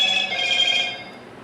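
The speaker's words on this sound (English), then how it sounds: "And of course my phone's got to go off." A mobile phone rings close by with a bright, shrill electronic tone that holds steady for about a second before fading, alone with no talk.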